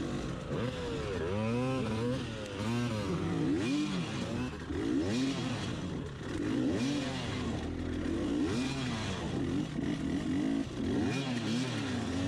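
Hard enduro dirt bike engine revving hard and unevenly on a gummy tire that struggles for grip, throttle rising and falling in repeated surges, loud and close throughout with no talking.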